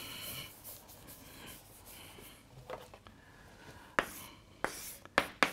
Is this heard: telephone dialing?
no